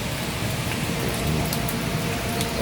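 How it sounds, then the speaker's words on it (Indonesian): Heavy rain pours steadily over the city of Banda Aceh, a dense, continuous hiss of drops on surfaces, loud and close with no pauses. "mulai jam 10 malam sampai sekarang masih hujan"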